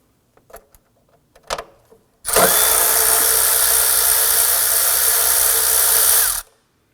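A power tool or ratchet spins a deep socket on an extension, removing a 10mm engine cover bolt deep in a pocket on a 2015-2020 Ford F-150 during throttle body replacement; a few faint clicks come first, then one loud, steady whirring burst of about four seconds.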